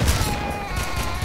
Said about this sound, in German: Und dann knallt er mich weg, der Penner.